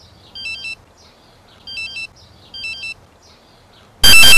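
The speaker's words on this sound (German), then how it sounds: "Eine neue Message auf WhatsApp." A WhatsApp new-message notification chime sounds from a phone three times in a short repeating electronic tone pattern, clear and close, before a burst of loud noise at the end.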